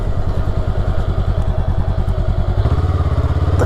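A 2023 Honda Rebel 500 motorcycle being ridden, its engine a loud, close, rhythmic thumping pulse that shifts to a new, steadier tone at a crisp gear change.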